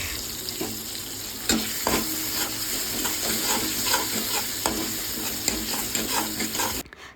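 Ground chili and garlic paste frying in hot oil in a home kitchen, a steady close sizzle with frequent stirring clatter and spoon knocks throughout, ending abruptly.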